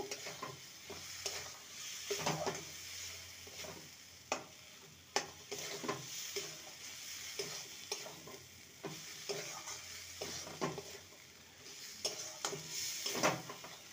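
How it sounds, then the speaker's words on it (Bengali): Fried spinach being stirred in a frying pan, a steady sizzle with repeated scraping and knocking of the spatula against the pan at an uneven rhythm, close and fairly loud, no talking. "পালং শাক দিয়ে ভালো করে নেড়ে নেব।"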